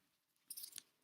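Scissors snip through a strip of tape once, a quick, faint, crisp cut heard close up in a quiet room.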